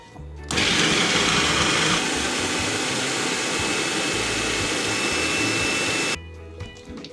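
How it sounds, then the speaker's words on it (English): Electric kitchen grinder milling dal or split peas in a Trinidad home kitchen, a loud steady high whine that starts abruptly, runs for several seconds and then cuts off. "So now we're going to grind up some dal or split peas."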